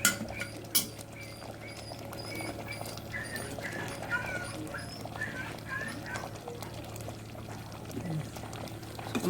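Taro simmering in coconut milk in a pot gives a soft, bubbling boil close by, with light popping and a faint clink of utensils.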